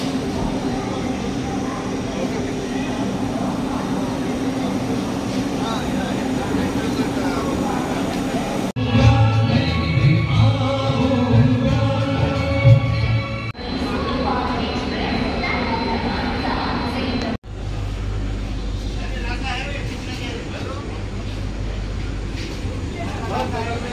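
Onboard a Vande Bharat Express chair car travelling from Secunderabad toward Vijayawada, a continuous rumbling hum of the moving train with abrupt shifts in tone, while someone talks over it for most of the time.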